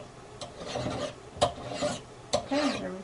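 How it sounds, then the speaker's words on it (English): Hand file rasping across silver tubing clamped in a jeweler's miter jig vise, a few short scraping strokes in uneven rhythm, close and fairly quiet with no talk. "I'm filing away the metal, the silver on the tubing, and until I won't hear it anymore."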